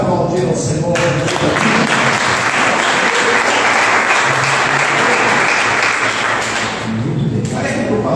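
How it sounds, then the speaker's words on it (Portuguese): A church congregation claps and applauds together at a worship service, a dense, loud, steady wash of clapping that fills the room for several seconds before easing slightly near the end. "Você pode aplaudir ao Senhor."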